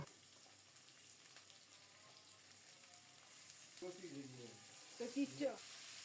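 Fish pieces frying in a pan with vegetables, a soft steady sizzle close by throughout, with a few brief faint voices or clatter sounds toward the end.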